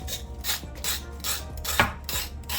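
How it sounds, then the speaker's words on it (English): A knife blade scraping the skin off a carrot for a burned sugar stew chicken, producing repeated rasping strokes in a steady back-and-forth rhythm with a faint low hum behind. "For the carrot, you're just gonna scrape the carrot just like this."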